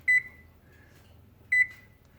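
A kitchen oven timer being set gives two short electronic beeps about 1.5 seconds apart, each a quick double chirp, clear and fairly close in a quiet room.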